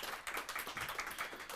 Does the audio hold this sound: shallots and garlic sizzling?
no